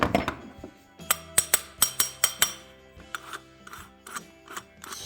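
A torque wrench tightening the case of a 1979 Porsche 911SC engine gives a run of sharp metallic clicks and ratchet ticks, about a dozen distinct snaps in two bursts, close and clear with no talk.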